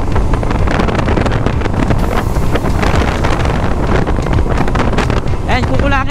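Six-year-old Honda Beat FI scooter with a new fuel filter accelerating hard along a short road, engine drone loud and steady under heavy wind rush against the microphone throughout.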